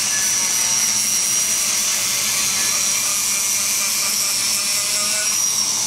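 Rotary bit grinding and smoothing the port of an LS exhaust cylinder head, a steady, loud high-pitched whine that holds unbroken from start to finish with no voices.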